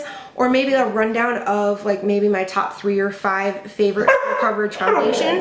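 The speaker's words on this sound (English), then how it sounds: "that's my dog." A pet dog barks in short repeated bursts close by, mixed in with a person talking steadily over it in a home setting.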